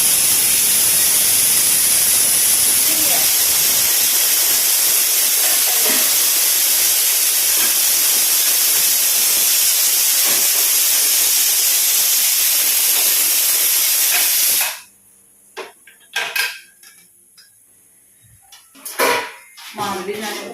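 Steam hisses loudly and continuously from an idli steamer on a stove, a harsh steady rush lasting about fifteen seconds before it stops abruptly, leaving scattered quieter kitchen sounds and a voice.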